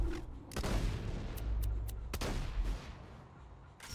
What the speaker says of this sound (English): Look at this shotgun. Okay, shoot it.